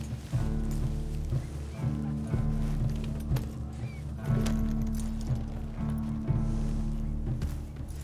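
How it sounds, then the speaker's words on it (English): Horse hooves clip-clop at an irregular pace in the Red Dead Redemption II video game, sitting under a steady musical drone. "Please, control that horse."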